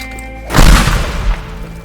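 An explosive object blows up in a video game. A single loud, deep boom bursts out after a moment of quiet humming, then rumbles and crackles briefly before fading.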